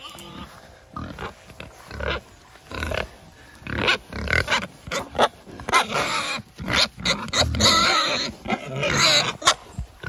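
Pigs on a farm give a busy mix of grunts, squeals and snorts close by, with uneven bursts of calls that overlap and keep going throughout.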